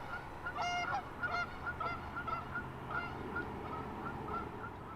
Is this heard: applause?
no